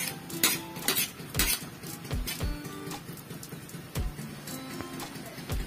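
Squid adobo being stirred in a cooking pot with black pepper added, giving irregular metallic clinks and scrapes of a utensil against the pot over a steady background sizzle, with no talking.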